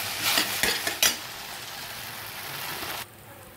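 Fried paneer chilli being stirred in a pan for a restaurant-style home dish, with several scraping strokes over a steady sizzle that drops off near the end; no talking.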